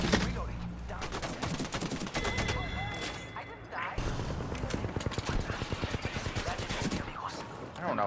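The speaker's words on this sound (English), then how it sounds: "had out the minigun" A minigun fires in a video game, a dense, rapid stream of loud shots in long bursts with brief pauses, while voices talk over the gunfire.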